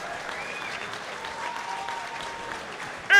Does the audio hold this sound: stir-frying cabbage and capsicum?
no